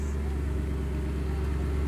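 Modified Mercedes-Benz SLS idling with its exhaust valve closed: a steady, deep, even engine rumble throughout, close and fairly loud.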